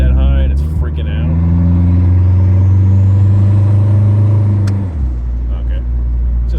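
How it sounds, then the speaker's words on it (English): Turbocharged Dodge Daytona engine, converted from TBI to turbo, pulling hard under part throttle with a loud, steady droning roar that rises slightly and holds for several seconds before dropping off abruptly to a lower idle-like rumble. "Give it a good part throttle pull."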